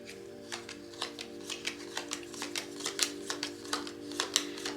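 Lenormand cards are handled for a Grand Tableau reading, with a steady stream of soft, close flicks and snaps as the cards are shuffled and laid out, and no voices.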